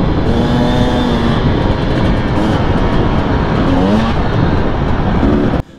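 A 2019 Husqvarna TE250i TPI two-stroke dirt bike engine drones steadily in third gear, loud and close with a sustained buzzing tone, cutting off sharply near the end.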